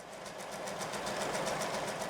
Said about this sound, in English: Her main weapon is a dusted-off, yellowed 1988 Singer sewing machine that she had put away years ago.